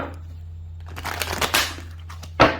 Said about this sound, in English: I'm going to begin shuffling